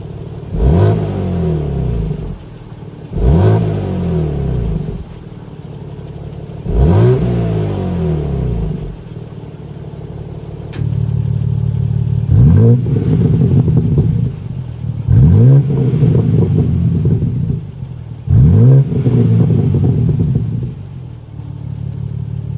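A BMW M4 in sport mode with its exhaust valves open revs hard several times from behind the car, loud close blips rising and falling in a repeated rhythm over a rumbling idle.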